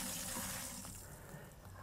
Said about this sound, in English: we're venting that air then into a bucket, and we're just waiting for then to get a continual flow of water going through the system